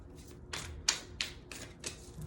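Tarot cards shuffled by hand give a few quick, crisp riffling bursts at an uneven pace, close and fairly quiet, with no talking.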